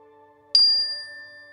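A single meditation bell at a silent retreat strikes once and rings clearly, its bright tone decaying slowly over a quiet background with a faint steady hum.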